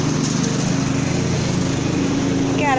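A lawn mower engine runs unattended and close, a steady droning buzz throughout the short stretch with no break in its pitch.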